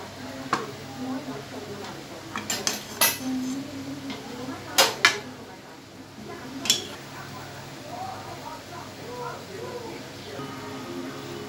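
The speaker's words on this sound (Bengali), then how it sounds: "এই প্লেটের মধ্যেই আমি দোরমাটা নামিয়ে নিচ্ছি" Chicken-stuffed pointed gourd dorma finished with ghee is lifted onto a plate, with a scattered run of clinks and knocks of a spoon against pan and plate, close by, while someone talks over much of it.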